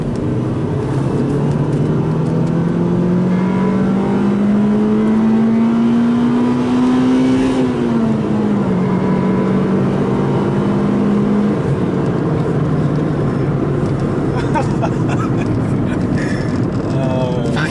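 A Honda Civic Si's B16 engine, with a refreshed head and a cooling system being bled, revs close and loud, its pitch climbing steadily through the VTEC range before dropping back and settling to a lower idle-like drone.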